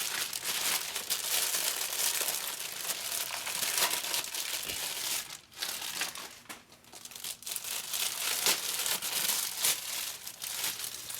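A new Sprinter van automatic transmission filter is pulled from its plastic bag, with loud, continuous crinkling and rustling close up and a short lull midway.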